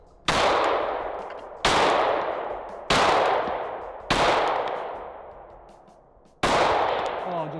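Five loud rifle shots fired from a barrel fitted with a compensator, each a sharp blast with a long decaying echo, spaced about one to two seconds apart with a longer gap before the last.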